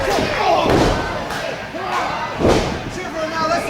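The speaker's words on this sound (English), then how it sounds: "Crowd cheering for Watson." A wrestling arena crowd cheers loudly and steadily during a match, with heavy thuds from the ring and commentary voices running over the crowd noise.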